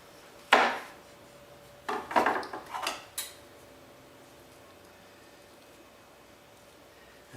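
A spoon scoops flesh from a papaya for a raw-food custard, making a single sharp scrape and then a quick cluster of wet scraping knocks, close and clear over a quiet room.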